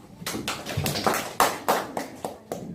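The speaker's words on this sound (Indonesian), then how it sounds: "Beri tepuk tangan" A classroom group claps hands together after a lesson, with about nine sharp, close claps in a quick, fairly steady rhythm.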